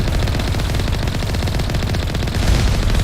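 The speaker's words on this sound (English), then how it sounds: "I forgot these things had turrets on them." Vehicle-mounted turret gunfire from the Mass Effect 1 video game, a loud, sustained rapid burst of automatic fire that continues unbroken for the whole stretch, close and dominant with no talk over it.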